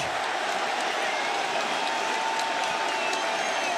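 Crowd noise from a baseball playoff stadium, Royals hosting the Orioles in a wild card game, rolls on as a constant roar of cheering and clapping, fairly loud and unbroken throughout.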